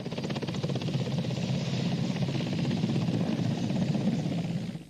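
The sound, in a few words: Chad Air Force helicopter landing at the airport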